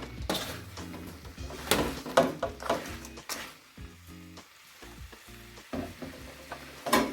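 Fried devilled chicken, Sri Lankan style, being tossed and stirred in a pan over low heat, giving repeated scraping and sizzling bursts at close range with irregular rhythm, no voices.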